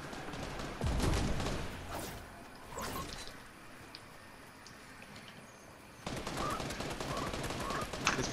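Fortnite gunfire, with a loud close shot followed by scattered fainter shots and a short pause, then a dense run of rapid fire near the end, while players talk at times.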